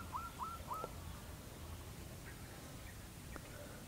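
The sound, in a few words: blue-eared kingfisher call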